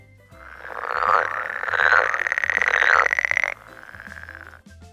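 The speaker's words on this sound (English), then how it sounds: "Frog." A frog croaking in a loud continuous rattling trill lasting about three seconds, followed by a softer, shorter call.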